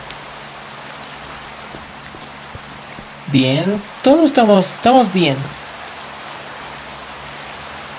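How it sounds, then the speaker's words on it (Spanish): In-game rain falls in Minecraft as a constant, even patter and hiss from start to finish, with someone talking for a couple of seconds midway over it. "Se pone a llover, no sé si lo apagará la fogata."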